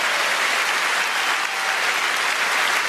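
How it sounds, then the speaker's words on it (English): Loud, dense audience applause fills a comedy show venue, a steady roar of many hands clapping with no voices over it. "Give a round of applause."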